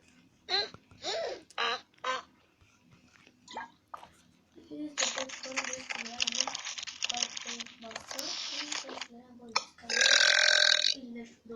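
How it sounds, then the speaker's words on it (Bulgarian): A loud, drawn-out burp rumbles up among scattered chatter and noises in a room, with another harsh burst near the end. People talk around it. "Леле как се оригна."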